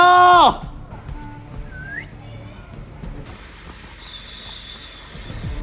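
A whistle is blown during an outdoor hide-and-seek game: a loud, shrill blast opens, then fainter whistled tones and a thin high note follow over quiet background noise.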